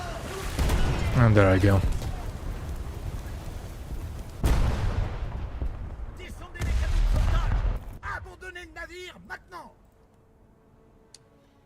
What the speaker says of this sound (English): I'm being shot by a destroyer, am I?